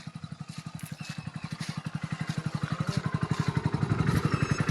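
A motorcycle engine chugs nearby with a steady rhythmic thump that gradually quickens and grows louder, with light rattling on top.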